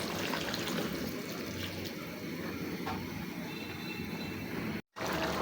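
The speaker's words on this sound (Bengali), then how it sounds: "তরকারির ঝোল দিয়ে দিচ্ছি।" Curry broth pours into a pan of cabbage and chicken cooking, a steady rushing, splashing liquid sound that cuts off briefly near the end.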